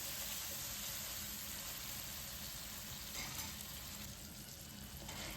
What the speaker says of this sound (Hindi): अब इसमें 4 बड़े टमाटर काट के डाल देंगे